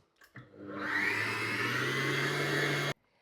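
An electric mixer whips cream in a mixing bowl for homemade butter, a steady whirring drone starting after a couple of soft knocks and cutting off sharply near the end, with no talking.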